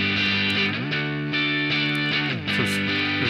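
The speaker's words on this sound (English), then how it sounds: "let's just try to get the amount of distortion we might want just with this gain knob here" Electric guitar played through the GarageBand Amp Designer with its gain knob raised, giving a moderately distorted, sustained tone as chords ring and change steadily and loudly, with no voice over them.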